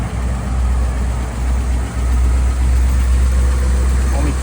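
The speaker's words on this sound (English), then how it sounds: "This is an actual F-code retractable, one of 15 produced. So it's got the factory supercharger." A supercharged F-code engine in a 1957 Ford Fairlane Retractable idles steadily, a deep, continuous low rumble held close and loud for the whole stretch, with one brief dip in level partway through.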